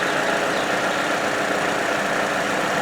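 Idling Vauxhall Corsa D 1.4 petrol engine with the standard timing chain rattle, a steady close mechanical clatter and hum running continuously with no talk.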